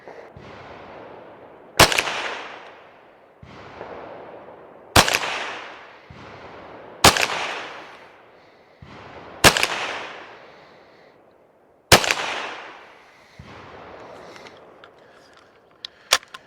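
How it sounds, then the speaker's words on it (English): Ten Winchester .22 LR varmint rounds fired at a target on an outdoor range: sharp, loud single reports spaced a second or two apart, each with a short decaying echo. "Next up is the Winchester long rifle varmint, 10 rounds. And we're shooting the target on the right."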